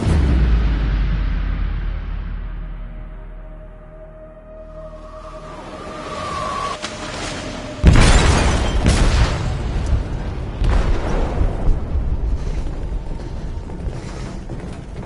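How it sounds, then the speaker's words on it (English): A shipboard explosion in the video game Detroit: a low rumbling drone gives way to a sudden heavy boom, followed by sustained roaring debris and crashing noise, loud and close. "They detonated an explosive in the hold."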